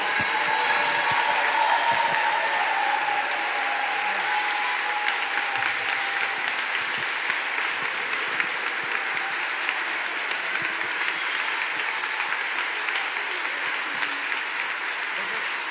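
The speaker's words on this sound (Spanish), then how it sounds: "Le damos un fuerte aplauso a las profes." Audience at an infantil (kindergarten) graduation ceremony applauds the teachers, a sustained, dense wash of clapping from many hands that stays steady and fairly loud throughout, with no speech over it.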